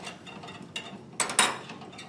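A laboratory clamp holder for a round bottom flask is fitted on, giving a few soft clicks and a couple of sharper metallic clacks near the end, quiet and close.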